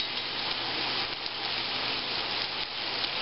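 Onions, peppers and pork chops sizzle steadily in a hot pan, a continuous dense crackling frying hiss close by, with no voices.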